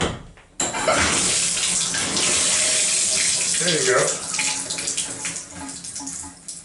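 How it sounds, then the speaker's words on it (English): Water gushes steadily from a shower faucet after a Moen Posi-Temp valve cartridge is replaced, a loud continuous rush starting abruptly and tapering slightly, with a brief spoken remark over it. "There was some water in line. Hopefully we get out of the system through the faucet."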